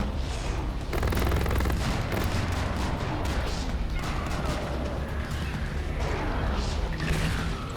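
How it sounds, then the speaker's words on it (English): Rapid gunfire and heavy blasts from the first-person shooter Killzone Shadow Fall fill a dense, continuous battle soundscape, loud throughout with bursts of shots and impacts layered over one another. "You have a gun. You're going to want to kill this this Hellgast that's going to be appearing."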